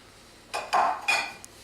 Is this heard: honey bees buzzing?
no